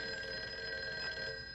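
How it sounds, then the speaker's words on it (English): A telephone rings in a scene from the film Vertigo, a faint, thin electronic-sounding ring with bright sustained tones, heard alone in a quiet room. "she's in the bed, she's unconscious, and then the phone rings."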